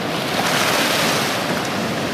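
Broad, continuous roar of ocean waves and surf off Bora Bora, with wind noise buffeting the microphone.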